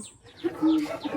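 A chicken gives a brief run of close, short clucks, two or three quick notes.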